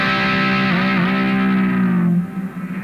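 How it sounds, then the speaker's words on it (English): Electric guitar run through a compressor, sustained chord with a slight pitch bend that rings loud and even, then cuts off and leaves a brief decaying tail. "guitar through a compressor"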